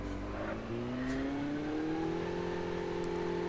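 A motorbike engine revs in the video game Call of Duty, a steady droning whine that rises gradually in pitch and holds, continuous and fairly loud with no talking.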